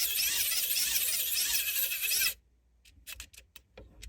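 A NexTool Gemini multi tool tightening screws on a stand, first a steady buzzing whir that cuts off abruptly, then a few short close ratcheting clicks and scrapes, no talking.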